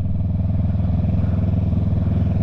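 Trail motorcycle ridden off-road, its engine a loud, steady low rumble with a fast pulsing beat, close by and holding an even pace throughout.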